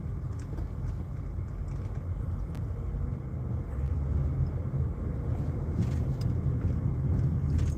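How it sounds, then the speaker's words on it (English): Old car passing on a street, heard from inside another vehicle as a steady low rumble that swells slightly toward the end, with no talking. "There's an old car coming up."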